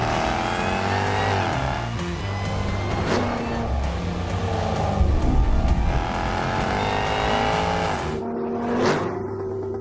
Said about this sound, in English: 600 horsepower, I mean, it just accelerates, it goes.